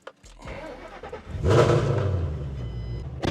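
A Ford Mustang engine warm-starts with a brief crank, then catches and flares into a loud rev around the midpoint before easing into a steady, fairly close idle rumble.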